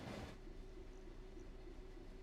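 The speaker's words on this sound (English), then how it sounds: "we're approaching a single amber with a heavy freight train" A heavy freight train in Train Sim World 4 on the Derby to Nottingham route rolls along as a steady low rumble with a faint sustained hum, continuous and even, heard alone without speech.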